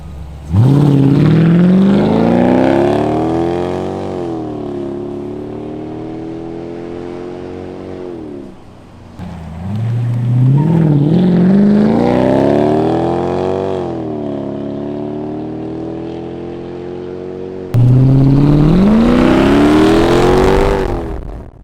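A Mercedes W210 E55 AMG with a straight-pipe exhaust and deleted mufflers and resonators accelerates hard under load in three loud, rising runs, each climbing in pitch with a brief dip between gear changes.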